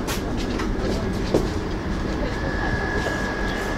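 A tram passes on rails in Warsaw, a loud, steady rumbling roar with a faint high rail squeal and a single clack partway through, with no clear talking.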